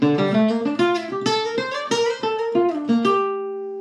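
A short melodic run of plucked nylon-string guitar notes, quick and sliding, ending on a ringing sustained note; no talking.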